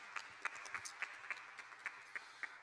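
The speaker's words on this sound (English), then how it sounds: "Give a round of applause for yourselves." Faint, regular claps ring out in a steady rhythm, about three per second, from a group at a chapel service, with soft room noise between the beats.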